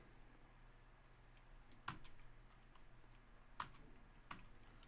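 A computer keyboard gives a few sparse, faint keystroke clicks spaced irregularly over a quiet room background.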